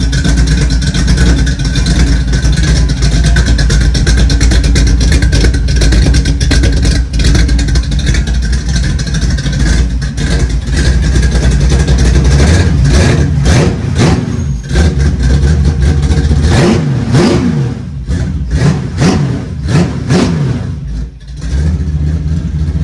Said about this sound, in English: 355, this is for showing customers what different exhaust sounds like, different mufflers.